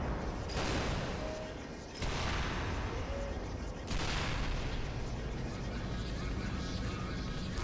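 Gunfire and explosions from the Skibidi Toilet video game roar in dense, continuous bursts. Heavy booming volleys run throughout and swell at intervals, with no clear talk over them.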